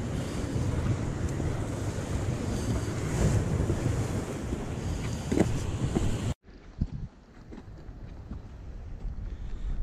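Steady wind and surf over open water on a calm evening at a fishing spot, a broad rushing roar that cuts abruptly to a much quieter breeze with faint lapping partway through.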